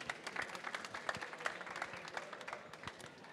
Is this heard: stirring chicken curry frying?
no